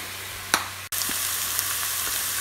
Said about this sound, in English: So then we have the mushroom and the onion frying nicely